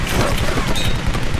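Machine gun fire in the 2013 Tomb Raider game, a dense, loud barrage of rapid booming shots filling the whole moment without pause.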